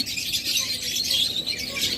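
A pair of yellow-collared lovebirds in a cage gives continuous close chirps and tweets, steady and fairly loud throughout with no voices.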